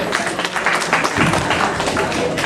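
Audience applause after a song at a Tamil community cultural event in Canada, a dense patter of many hands clapping, fairly loud and continuous, with a brief shift in texture midway.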